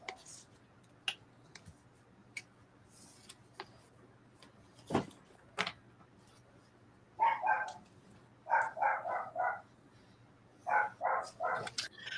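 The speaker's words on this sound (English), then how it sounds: "That little dog can bark that loud." A small dog barks loudly in several quick bursts, close by, after a quiet stretch with scattered clicks and taps; the barks come in clusters of three or four sharp yaps.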